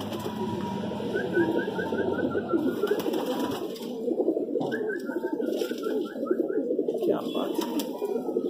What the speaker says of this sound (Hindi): ये कबूतर तो बहुत स्पेशल है आपका